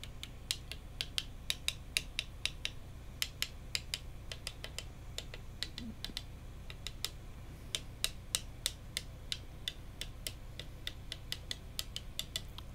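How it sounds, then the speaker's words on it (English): Light, steady tapping on a MacBook Air A1466 with a premature shutdown fault, a sharp click every half second or so over a low hum, with no talking. "I'm not tapping very hard,"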